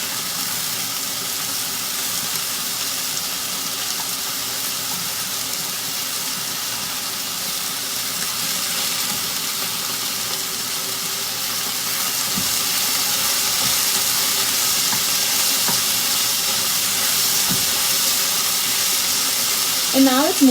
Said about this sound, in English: I'm just sauteing it to move it around, make sure it gets seared from all sides